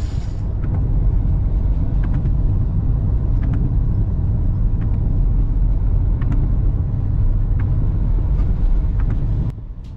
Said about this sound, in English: As we drive towards the next one